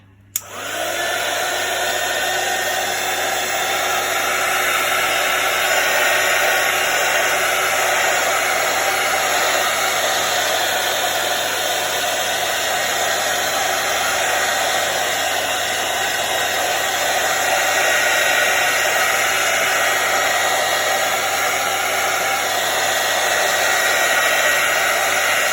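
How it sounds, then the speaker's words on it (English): A heat gun blows hot air over resin in a continuous, even hiss that starts abruptly and holds steady, close and loud, with no voices. "I'm also going to take my heat gun."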